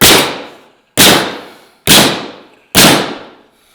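A DeWalt framing nail gun bump-fires four nails in steady succession, each a sharp, loud crack with a short decaying tail, spaced about a second apart with no voices.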